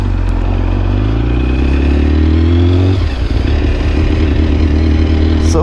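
A BMW S1000RR sport motorcycle is ridden on a sunny road, its engine a loud, steady, close roar. The pitch climbs through the gears, then drops and settles back, with wind buffeting the rider's microphone.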